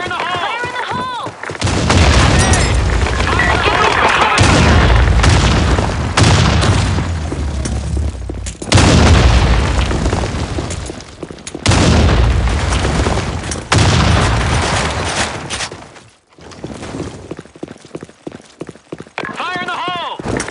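Grenade blasts and gunfire ring out loudly in a combat scene, with heavy booms and dense bursts of shots over most of the stretch, separated by brief lulls, while voices shout in between.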